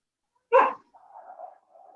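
A pet dog barks once sharply behind a closed door, followed by a softer whining whimper that trails on, heard alone and fairly close in a quiet room.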